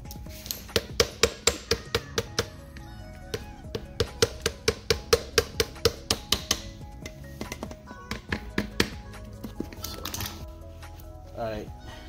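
Sharp metallic hammer taps on a C-clip in a Hyundai Tiburon 6-speed transaxle, a quick steady series of some twenty strikes clanging close by, then a few scattered knocks and scraping.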